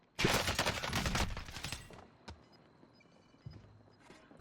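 Loud, dense burst of gunfire from the Warzone video game fires rapidly for almost two seconds, then gives way to scattered fainter shots and quiet game ambience.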